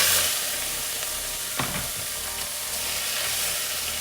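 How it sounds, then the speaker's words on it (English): Prawn shells frying in smoking-hot olive oil in a pan give a steady, close hiss and sizzle, with a brief crackling burst partway through as the shells hit the oil. "That's smoking nicely. Put my prawn shells in."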